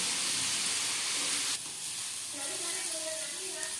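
Curry leaves drop into hot oil with onions and green chillies, giving a loud, steady hiss that eases after a moment into a softer sizzle.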